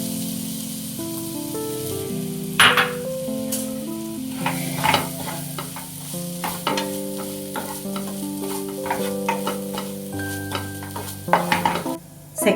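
Mango pieces fry in a spoonful of butter in a pan for mango barfi, a steady close sizzle broken by repeated scraping and clinking stirs, with no talking; a sustained musical tone runs underneath.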